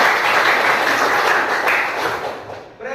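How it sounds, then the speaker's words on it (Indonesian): A classroom group applauding, dense and loud clapping close by that holds steady and then tapers off near the end. "tepuk tangannya"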